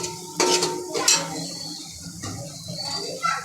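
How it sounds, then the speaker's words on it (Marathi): Masala for a spicy crab curry is stirred and fried in a pan, with clinks of a metal spoon against the pan and a soft sizzle underneath, a few sharp scrapes standing out over the quiet cooking. "आपला हा मसाला चांगला परतून घ्यायचा आहे।"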